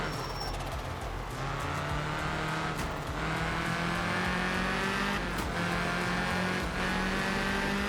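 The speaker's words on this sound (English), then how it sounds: "Listen to that turbo flutter." Turbocharged Lancia rally car in a racing video game, its engine droning steadily with repeated turbo flutter chatter between throttle lifts, loud and continuous with no talk.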